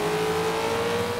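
Maxed-out Hummer engine in Forza Motorsport 5 holding a steady, loud revving drone with a strong sustained tone as it accelerates, close and continuous with no talk.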